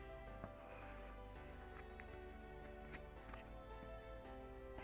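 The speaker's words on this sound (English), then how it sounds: "Need more sanding." Sanding the wooden skeleton parts of a 1:76 scale Mayflower model ship kit, faint scratchy rubbing strokes with a few sharp clicks over a steady electrical hum.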